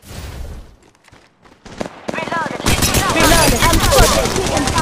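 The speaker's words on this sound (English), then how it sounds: "I'm getting shot at" Rapid video-game gunfire in a squad shooter, bursts of automatic shots growing loud and dense after a quieter opening, with a voice talking over the action.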